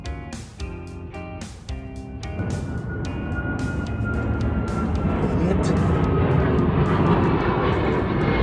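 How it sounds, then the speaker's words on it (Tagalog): Airplane descending low toward Dubai airport, its engine roar rising steadily from quiet to a loud sustained rumble after a few clicks and knocks near the start. "Kung mapapansin nyo, naririnig nyo yung ingay ng eroplano."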